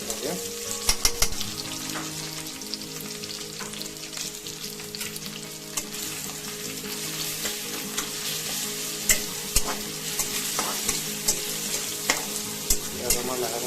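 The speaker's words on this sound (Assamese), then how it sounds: "এইখিনিতে দিব লাগিব 1 চামুচ আদা নহৰুৰ বটা।" Pork fries with ginger-garlic paste and ground raw turmeric in a pan, a dense continuous sizzle with scattered ladle scrapes and taps running throughout, no talking.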